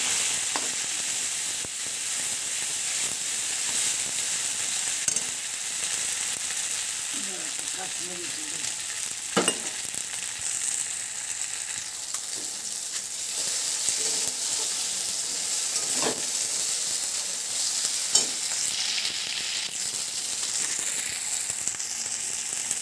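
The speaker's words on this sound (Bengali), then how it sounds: "তারপরে এটিকে নাড়াচাড়া করে ভালো করে" Pigeon meat with ground spice paste frying in a pan, a continuous soft sizzle with occasional scrapes and taps of a spatula as it is stirred, steady and close throughout.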